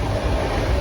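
A passenger train running from Mumbai toward the Konkan region, heard from inside as a constant, loud low rumble with broadband wheel and carriage noise, steady and unbroken, with no talk.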